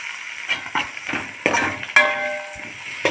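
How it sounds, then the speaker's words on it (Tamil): Two small tomatoes go into a frying pan for a Tamil stingray fish curry and are stirred, giving repeated scraping and clinking strokes over a light sizzle, close and fairly loud, with no talk. "இப்போ நம்ம தக்காளியை சேர்த்துடலாம்."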